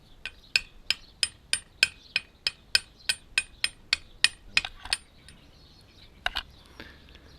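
Light, evenly spaced metallic taps drive a Land Rover transfer box input seal home, about fourteen quick close strikes in a steady rhythm, then a few scattered softer taps, with no talking.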